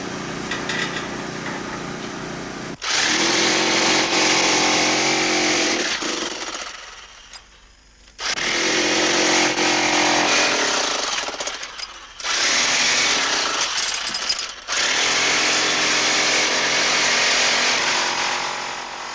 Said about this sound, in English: Jean always operates the drill, while Ray shovels.